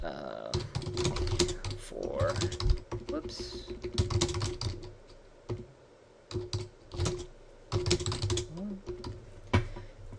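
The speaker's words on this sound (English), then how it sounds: "here you can go ahead and type in whatever you'd want" Fingers tap out text on a computer keyboard in quick close bursts of clicks with short pauses, and someone talks over the typing.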